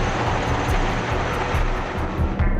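Sikorsky S-64 Air Crane helicopter at work placing logs in a river restoration project, a loud, steady, near rotor and engine roar with broadband rushing noise and no voices.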